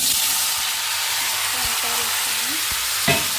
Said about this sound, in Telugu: బాండి వేడైంది కదా అంతలోకి తాలింపు వేసుకుంటే అవి ఉడుకుతూ ఉంటాయి